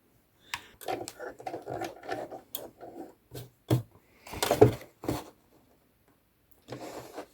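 A sewing machine stitching fabric over wire, set to a length 3 stitch with the tension at 3.5, running in short stop-start bursts of rapid clatter separated by pauses, with a louder burst midway.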